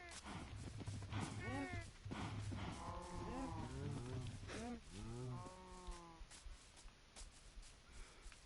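Cows mooing in Minecraft, several drawn-out lowing calls one after another at moderate loudness over steady game background, with someone talking throughout.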